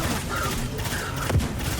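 Rapid weapon fire in Destiny 2 rattles in quick bursts with a booming explosion near the end, dense and loud game effects with no pause.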